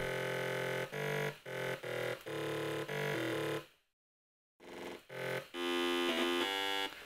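A buzzy synthesizer plays a series of choppy sustained notes, breaking into a brief silence before resuming with brighter, richer tones.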